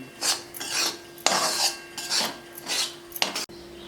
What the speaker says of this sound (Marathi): कढई ठेवली एक चमचा तूप घालून चमचा पण मोठा आहे एक वाटी रवा घालून याला ना चांगलं खरपूस हा सत्सुंग पर्यंत भाजून घेऊ